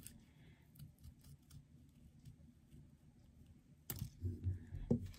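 Scissors trimming paper for a craft flower give a run of quiet, quick snips close by, followed by a louder rustle and thump of paper being handled, with no talking.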